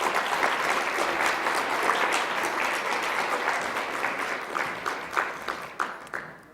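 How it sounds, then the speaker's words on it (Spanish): Sustained audience applause at an academic lecture in Mexico, dense steady clapping from a seated crowd that holds throughout, then thins into a few scattered louder claps near the end. "Un aplauso, por favor."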